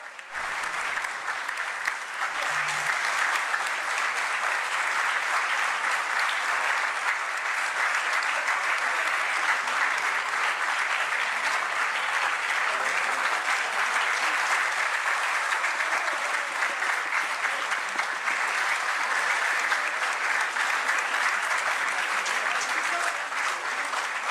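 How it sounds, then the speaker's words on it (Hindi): Sustained audience applause for a lifetime achievement award at a live classical music tribute concert, a broad, even roar of many hands clapping that holds steady for over twenty seconds. "भरपूर तालियां"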